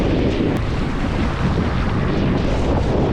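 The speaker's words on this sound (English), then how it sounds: "Just feel that wind is almost blowing down on the rig." Steady wind roars across the microphone outdoors on the rig of a 7.8m M4 one-design sailboat at Port Sorell, a constant broadband rush with low buffeting and no pauses.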